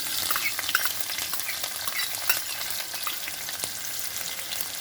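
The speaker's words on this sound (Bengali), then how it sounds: "জিরাটা ভাজা হয়ে যাওয়ার পরে পেঁয়াজ কুচিটা" Chopped onion frying in oil with cumin, a loud dense sizzle close by with scraping stirs and small crackles throughout, no voices.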